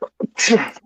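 A single close, sharp sneeze from a man watching a live Dolphins versus 49ers football broadcast, preceded by a couple of short breathy intakes.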